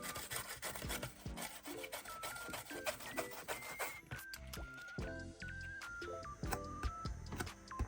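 Sticky, Vaseline-like residue being rubbed on the underside of a Sega Mega Drive (Genesis) circuit board, giving close, continuous rasping and squeaky scraping strokes with short tonal squeals throughout.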